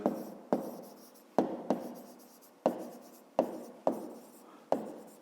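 A pen writes numbers by hand on paper for a fifth-grade maths exercise: about eight quick, distinct scratching strokes, each with a sharp onset and a fading tail, spaced irregularly. The strokes are close and quiet with no talking.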